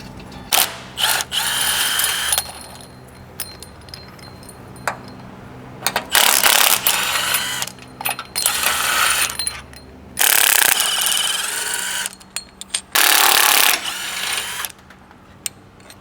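Ratchet loosening the differential mount bolts on a Toyota LandCruiser LC200, loud close bursts of rapid mechanical clicking that start and stop repeatedly with short pauses between.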